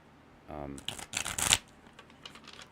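A deck of tarot cards is shuffled close by in a short, crisp riffle of papery flutters and snaps lasting about a second, with a brief voice just before it.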